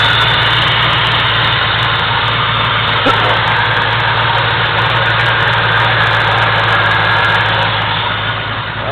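A 1994 Grand Marquis with a P71 V8 idling nearby, a loud, steady low rumble with a lumpy pulsing cam beat, running continuously without revving.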